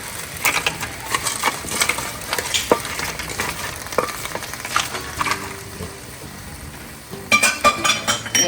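Calamari rings sizzling in a pan with Pinot Grigio for a seafood pasta, steady frying hiss broken by clinking stirs and scrapes, with a louder burst of clattering near the end.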